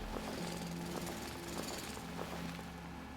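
A mining drill runs in the factory-building game Foundry, a continuous mechanical rattling drone with a regular pulsing hammer-like rhythm at a steady, moderate level and no talk.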